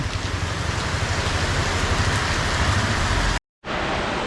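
A downpour of heavy rain hisses in a constant, loud wash during a road trip by BMW, breaking off in a brief silent gap before resuming.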